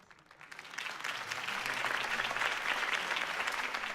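A crowd in Batman The Telltale Series video game swells into applause that builds from quiet to a steady, dense clapping wash, close and continuous to the end.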